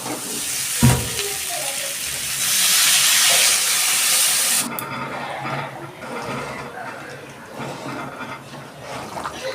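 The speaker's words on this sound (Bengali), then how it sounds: "এবার আমি দিয়ে দিচ্ছি জল" Water poured into a hot pan of fried potatoes and spices for a paneer curry sets off a loud burst of steam and sizzling hiss that settles into a steady, quieter simmering fizz.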